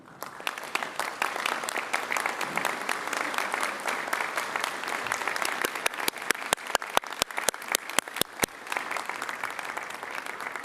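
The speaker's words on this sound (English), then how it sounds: "give them a big round of applause" Sustained applause from a large audience at a University of Queensland 2024 graduation ceremony, a dense steady clatter of many hands lasting the whole stretch, with a few sharper nearby claps standing out toward the end.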